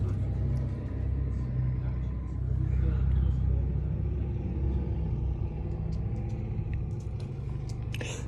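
Road traffic creeps over a speed bump, a continuous low rumble of car engines with a slow swell as a vehicle rolls past, mixed with light background noise.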